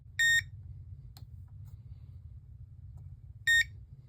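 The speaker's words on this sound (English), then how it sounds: "you'll hit panel silence to confirm, and you'll hear a long beep" Two sharp electronic beeps a few seconds apart sound from an Edwards Fireshield conventional fire alarm panel over a low, steady hum.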